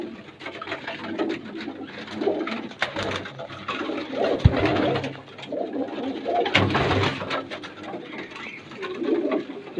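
Home-bred low flyer pigeons coo in a home loft in Hyderabad, with several birds giving overlapping soft, throaty calls, close and fairly loud. Faint background voices mix in.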